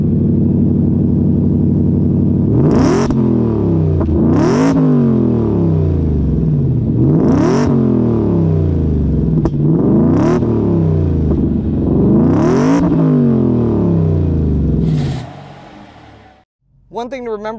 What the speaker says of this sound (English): This is a beast. Listen to the exhaust.